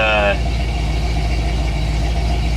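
A freshly built AMC 360 V8 idles steadily with a low, even rumble, close and continuous, after a brief higher-pitched burst at the start.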